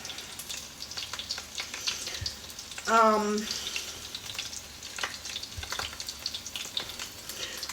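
Sausages frying in a pan give a steady soft sizzle and crackle throughout, with a short tonal scrape or squeak near the middle as they are rolled.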